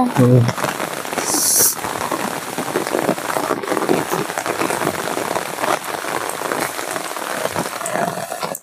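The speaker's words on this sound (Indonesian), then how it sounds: "karena hujannya semakin deras ini" Heavy rain pours down steadily on a rural hut in the middle of a forest, a dense continuous hiss and patter close around, with a brief high-pitched noise early on and faint voices underneath.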